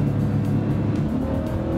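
A Porsche 928 S4 engine pulling steadily in gear while cornering, a loud, deep, continuous engine note heard from inside the car with slight variations in pitch and no talk.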